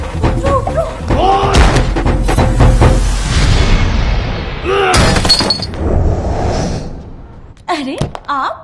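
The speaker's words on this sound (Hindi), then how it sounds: "दरवाजा खोल दे, मैं दरवाजा आज तोड़ दूंगा।" A door is forced and broken down in a Bollywood comedy film scene, with heavy thuds and crashing bursts mixed with loud voices and background music.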